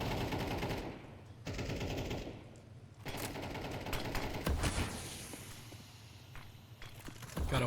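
Rifle gunfire from an AK in a Counter-Strike match comes through in rapid bursts and scattered shots, mixed with footsteps and mechanical clicks, at moderate loudness with no commentary audible.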